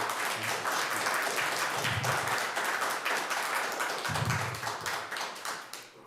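Applause breaks out in a city council meeting in St. Catharines: a dense, steady patter of many hands that thins toward the end, with no voices over it.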